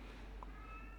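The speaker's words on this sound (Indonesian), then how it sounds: "Itu tadi kucing saya bunyi meong-meong" A pet cat meows once, briefly and moderately close, picked up indoors by an Acome APC07 smart PTZ 3K security camera over a steady room hum, with no talking.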